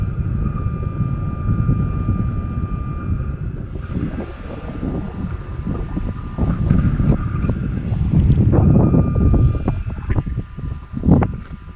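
Strong wind buffets the microphone in a continuous loud, low rumble with gusty swells, heard out in the open overlooking a plain, with no clear voice.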